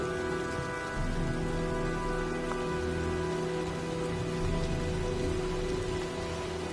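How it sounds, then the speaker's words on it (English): Steady rain patters on surfaces in the video game Heavy Rain as a storm builds, a dense and even hiss that holds at a moderate level with no voices over it. "Well, looks like a storm's coming."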